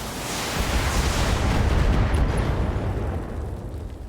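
A heavy, rumbling blast as a turret is destroyed in the BattleTech mech game: a loud, broad boom that swells and rolls on for several seconds before slowly fading, with no talking over it.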